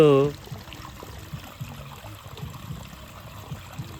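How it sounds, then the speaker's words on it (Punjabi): Canal water running into a raised farm field makes a soft, continuous trickling flow close by after a brief tonal sound at the start. "ਨਹਿਰੀ ਪਾਣੀ ਪੈਣਾ ਸ਼ੁਰੂ ਹੋ ਚੁੱਕਿਆ ਜੀ ਇਹ ਦੇਖ ਰਹੇ ਹੋ ਤੁਸੀਂ"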